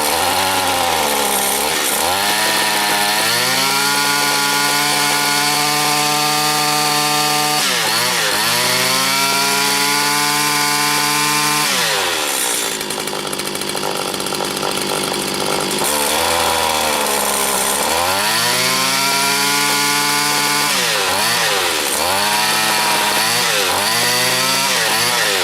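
A Stihl FS80 string trimmer engine, warmed up and with a suspected high-speed diaphragm fault in its carburetor, runs loud and close, revving up and down repeatedly between idle and higher speed.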